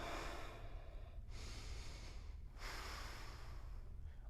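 Deep, slow breaths drawn in and pushed out through the nose during a home power yoga flow, about three long airy cycles, soft and close with no talking.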